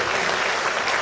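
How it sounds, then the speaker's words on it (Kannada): An audience claps continuously to welcome guests at an inauguration ceremony, a dense steady wash of many hands applauding at close range. "ಅವರಿಗೆ ಎಲ್ಲರೂ ಚಪ್ಪಾಳೆ ಸಮೇತ ಸ್ವಾಗತಿಸಿದ್ದಾರೆ"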